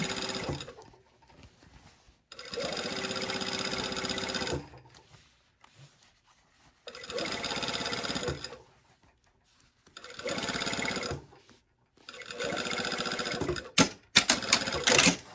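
A sewing machine stitching the back armhole seam of a garment, running in four steady loud bursts of rapid needle clatter separated by quiet pauses, close and with no talking.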